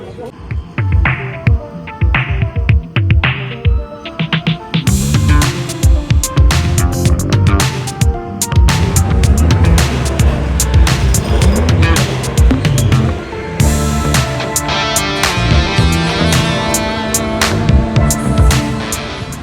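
Turbo Track roller coaster ride at Yas Island, a loud, continuous rumbling roar with rattling surges that builds and stays intense throughout.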